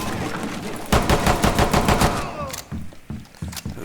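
Rapid automatic gunfire from a Rainbow Six Siege match bursts loudly for about a second and a half, then gives way to a few scattered thuds and single shots over quieter game ambience.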